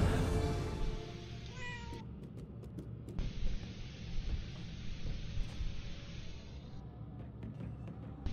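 A cat in the Murdered: Soul Suspect video game gives a short meow near the start, followed by quiet game ambience with faint hissing noise and scattered soft clicks.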